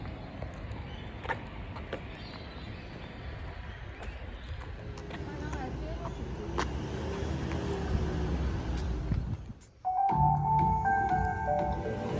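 Steady road rumble of passing traffic heard from inside a parked car, a continuous low wash with a brief dip near the end followed by a low engine-like hum.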